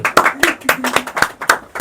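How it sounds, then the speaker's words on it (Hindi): A classroom audience claps along for a Bihar board science lesson, with sharp, uneven hand claps repeating steadily at close range. "सुभान अल्लाह, ताली बजाओ जी।"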